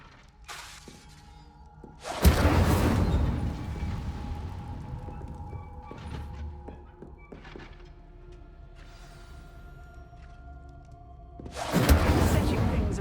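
Two loud, blasting fire-spell impacts from the Incendio spell striking practice targets in Hogwarts Legacy, spaced about ten seconds apart, with a steady low game ambience between them and no talk.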